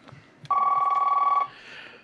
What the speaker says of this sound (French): il faut que je donne un coup de téléphone